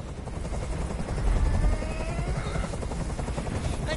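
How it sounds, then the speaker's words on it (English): Steady, loud helicopter rotor thrum in the video game Detroit: Become Human, with a dense whirring chop that holds throughout, swelling slightly midway. "I can't stand that noise anymore. Tell that helicopter to get out of here."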